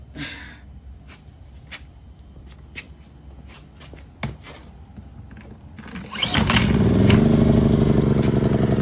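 A Genkins 2300i inverter generator is pull-started on choke after maintenance: a few clicks and rattles, then the engine catches and settles into a loud, steady, even running drone.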